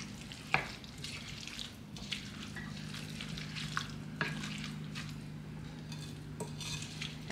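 A sweet pepper and corn salad being stirred in a bowl, with a spoon scraping and clinking in scattered strokes over a low, steady background hum.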